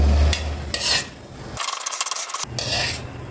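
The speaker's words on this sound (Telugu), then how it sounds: "ఇలా కలుపుతూ ఉండండి దగ్గరకు వచ్చే వరకు" A spoon scrapes and rasps through thick besan burfi mixture cooking with ghee in a pan, in close repeated strokes broken by short pauses, with a faint sizzle underneath.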